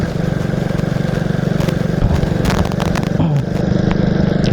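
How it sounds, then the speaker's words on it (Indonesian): A yellow Honda C70 motorcycle engine runs steadily close by with a constant low idle-like drone, while a short voice briefly comes through partway. "Dengan motor kesayangan kita semua, C70 kuning."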